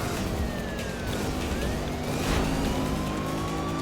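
A car races along in the video game Need for Speed: Rivals, its engine droning steadily at full throttle, with a siren-like wail and rushing road noise mixed in, continuous and fairly loud.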